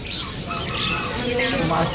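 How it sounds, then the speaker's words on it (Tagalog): Many caged birds, parakeets among them, chirp and tweet together at the busy Malabon Pet Market, a dense steady chatter with voices faintly mixed in. "ang daming ibon ni Mr. Sia."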